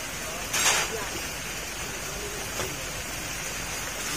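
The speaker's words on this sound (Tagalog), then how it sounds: "Umuulan pa." Steady rain falls outdoors during a scooter repair session, a continuous broadband hiss running through the whole stretch, with people talking over it.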